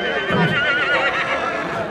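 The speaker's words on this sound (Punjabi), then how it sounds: "65 ਦੀ ਘੋੜੀ ਹੈਗੀ ਹੈ ਤੁਹਾਡੇ ਕੋਲ" A 65-inch Nukra mare at a Punjab stud farm neighs close by, a loud, wavering whinny lasting nearly two seconds, with a voice faintly underneath.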